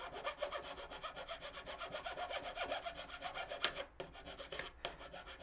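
Steady rhythmic sanding of a Nerf magazine, a coarse rasping scrape repeating back and forth up close, with two brief pauses near the end.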